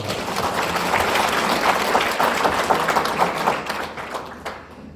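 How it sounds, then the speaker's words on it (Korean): A lecture audience bursts into applause, many hands clapping together in a loud, dense burst that swells and then tapers off toward the end. "박수"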